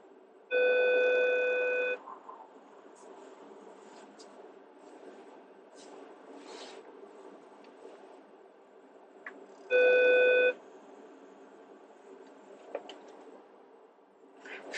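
A car's driving sensor sounds two electronic beep bursts during a UK driving test, the first lasting over a second and the second shorter, separated by quieter cabin noise.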